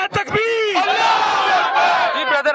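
A crowd shouts Allahu Akbar in unison in reply to Naara-e-Takbeer, one loud, sustained chorus of many voices that ends after about two seconds.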